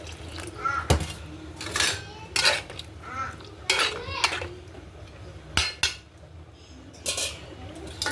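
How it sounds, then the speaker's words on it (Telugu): Curry being stirred in a pan, with irregular bursts of metal spoon scraping and clinking against the pan, separated by quieter gaps and distant household background sounds. "ఒకసారి తిప్పుకుందాం."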